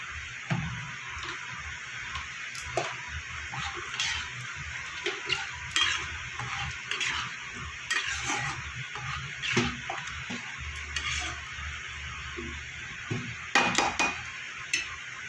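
Egg and soybean curry masala being stir-fried in a pan, with steady sizzling under repeated scraping and clinking of a spatula against the metal, continuous and close, with no voices.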